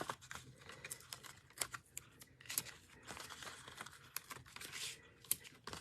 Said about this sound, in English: or you can just tear them